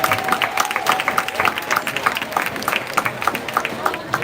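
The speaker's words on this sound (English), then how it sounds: "Give the St. James LMAJ Magistrate a round of applause" Crowd applause for the St. James magistrate at a marching band event, a sustained spread of clapping and cheering with a faint tonal hum, moderately loud and steady.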